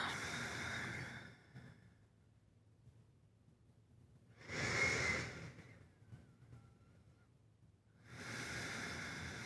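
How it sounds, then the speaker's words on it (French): Slow, deep meditative breathing close to the microphone, three long airy breaths separated by quiet pauses, each swelling and fading like a soft rush of air. "On essaie d'allonger, d'approfondir et de ralentir la respiration en apportant son attention sur l'air qui entre et l'air qui ressort."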